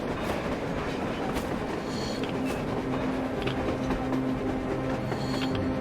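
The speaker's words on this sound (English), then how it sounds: "A train! A damn train on the surface!" Train running on the surface in the Metro Exodus game world, a steady rumbling rail roar with faint clickety-clack and a thin tonal whine, continuous and fairly loud throughout.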